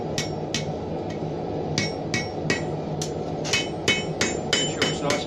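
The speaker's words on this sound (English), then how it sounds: "Using the horn of your hammer, it's a good way to get" A hammer strikes a horseshoe over and over, shaping it flat with the horn of the hammer, giving sharp metallic rings at an uneven, quickening pace over a steady background hum.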